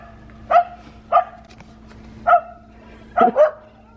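A dog barks five times in sharp, separate yips, the last two close together, nearby and fairly loud over a low steady hum.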